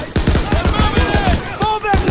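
Rapid gunfire in Call of Duty: WW2 as SS troops attack: a dense burst of close, loud shots in quick rhythm, with shouting voices mixed in over the battle.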